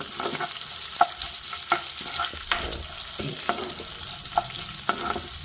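Vegetables fry in oil and ghee for potato fried rice, a steady sizzle broken by regular scrapes and knocks of a spatula stirring the pan, close and moderately loud, with no talking.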